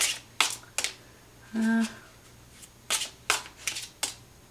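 Several quick riffling bursts of tarot cards being shuffled at close range, spaced out with short pauses, plus a brief low buzz partway through.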